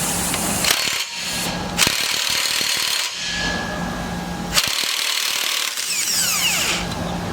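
Air impact wrench on a B20 VTEC engine from an Integra DC2, hammering a crank pulley bolt loose through a weighted socket: loud bursts of rattling impacts broken by short pauses, close and alone.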